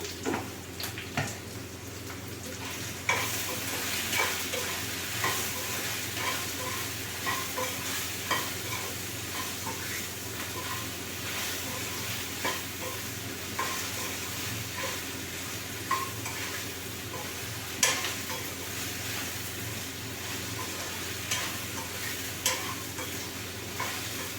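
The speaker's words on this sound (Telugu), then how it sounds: "ఇవి 2 వేసుకొని ఫ్రై చేసుకుంటే బెండకాయ అనేది మంచిగా ఫ్రై అవుతుంది" Okra frying in a pan with salt and spices, stirred steadily: a continuous close sizzle with repeated scraping and stirring strokes, no voices.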